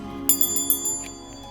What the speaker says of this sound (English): So I have a bell